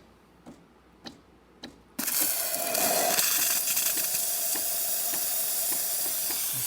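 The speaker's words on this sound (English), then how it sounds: "once it gets to pressure, we're gonna see the steam coming out" A Saeco espresso machine, just serviced with a new door switch, releases pressurized steam: three faint clicks, then a sudden loud, steady hiss that continues close and unbroken to the end, with no talking.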